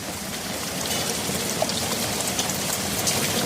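Steady, dense rain pours down with a constant hiss and patter, broken by occasional louder drops close by.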